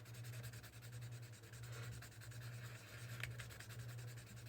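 Sanding a Star Trek phaser prop by hand with 80 grit sandpaper, a steady rhythmic scratchy rubbing in repeated strokes, close and continuous over a low background hum.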